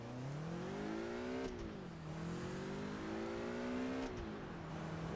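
Car engine in the racing game Test Drive Unlimited, near a Ford dealership, revving steadily with rising and falling pitch sweeps over a continuous loud drone, two sharp shifts partway through, no talking.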